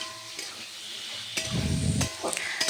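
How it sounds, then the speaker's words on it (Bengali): Curry with chili paste being stir-fried, a soft background sizzle broken by scraping stirring strokes in the pan that swell into a louder rustling burst near the end. "তো ভালো করে নাড়িয়ে চাড়িয়ে কষিয়ে নেব।"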